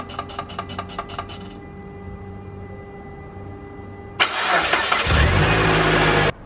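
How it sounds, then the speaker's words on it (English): Car engine starting after a serpentine belt repair: a short burst of rhythmic clicks, then a quiet hum, then a loud crank that catches into a steady running engine before cutting off, with no talking. "We gotta go and turn on the car, see how it does."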